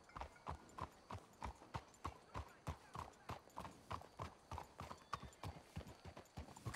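Horses' hooves clip-clop at a steady walking rhythm in Red Dead Redemption 2, regular close hoofbeats with a faint whinny and quiet game ambience, no talk.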